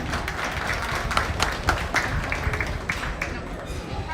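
An audience at a junior livestock show in La Salle County applauds the kids showing market hogs, with a steady patter of clapping at moderate volume and speech or a PA voice mixed in.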